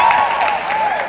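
A round of applause from an event audience, steady dense clapping with a cheering edge throughout, fairly loud and close, with a high voice-like whoop rising over the crowd.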